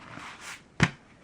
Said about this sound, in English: Let me see if I could get one more really good side shuffle